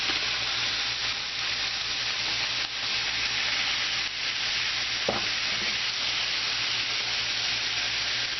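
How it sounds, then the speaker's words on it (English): Hot spicy sausage with peppers and onions sizzling and frying in a pan, a steady dense hiss throughout with an occasional stir or clink, close and continuous with no talk. "Time to turn the heat down and add some of these peppers and onions."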